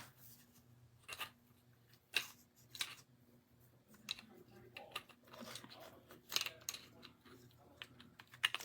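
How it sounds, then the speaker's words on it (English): Needle-nose pliers with a built-in wire cutter snipping wires on a craft sign, a series of short sharp clicks and snips spaced a second or so apart, close and fairly quiet over a low background hum. "The wire cut, these are needle nose pliers, but there's a wire cutter right there in the middle."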